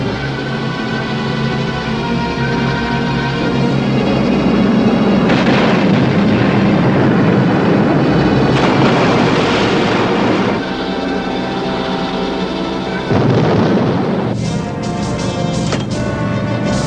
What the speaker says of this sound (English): Fire depth charges.